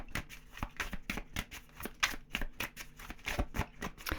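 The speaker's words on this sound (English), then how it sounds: "why I shuffle the cards on camera" Tarot cards being shuffled close up, a steady run of crisp riffling and flicking bursts with rapid irregular rhythm, alone with no talking.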